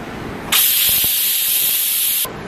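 A pressure cooker whistle: a loud, steady hiss of steam bursts out suddenly while cooking long beans, holds for under two seconds, then cuts off abruptly.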